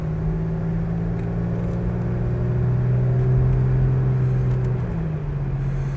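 A 25-year-old Mercedes 280SL automatic pulls away with a smooth, steady engine drone and a rising then easing hum, heard fairly close and alone.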